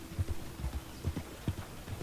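A horse's hooves clop softly on the ground in Red Dead Online, an uneven run of faint thuds with a quiet low rumble underneath.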